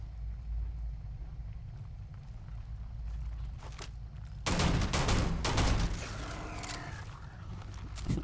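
Sci-fi weapon fire in Starfield, a burst of several loud shots crowding together mid-clip over a steady low rumble, then trailing off into scattered quieter reports.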